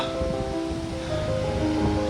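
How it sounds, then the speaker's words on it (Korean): Harajiri Falls in Bungo-Ono, Japan, produces a steady, broad roar of falling water heard from nearby, continuous and unbroken throughout, with faint tonal sounds mixed in. "이곳이 동양의 나이아가라 하라지리 폭포입니다"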